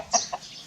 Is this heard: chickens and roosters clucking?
yes